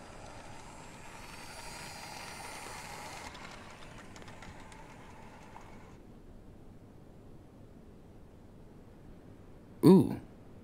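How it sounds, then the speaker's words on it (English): A toy model train runs in the Life is Strange 2 video game, a steady low rumble with a broad hiss fading after a few seconds, then a short loud knock near the end. "This toy train is kind of soothing, actually."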